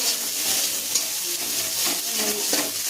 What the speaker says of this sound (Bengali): ছোলার ডাল রান্না হচ্ছে।